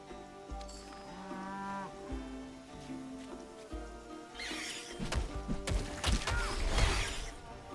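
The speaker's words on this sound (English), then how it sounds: "Come on, cows." Cattle in the video game Titan Quest 2 moo in drawn-out, tonal calls, followed by clattering, crunchy noises; the lowing is clear and close, with several moos overlapping.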